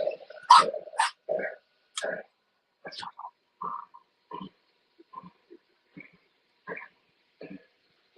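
A pet dog barking and growling indoors at night, a series of short, loud, close barks and grumbles spaced through the stretch with silence between them.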